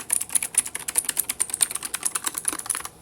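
Rapid typing on a K28 clicky mechanical keyboard, with a steady stream of sharp, close key clicks at an even, quick rhythm and no voices.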